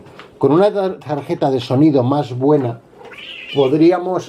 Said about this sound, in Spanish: Eso era un gato mío, que está emperrado en ponerse detrás del ordenador